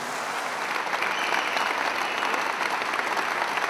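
Sustained applause from a large audience at an N-VA party congress, a dense steady roar of clapping filling the hall with no pause.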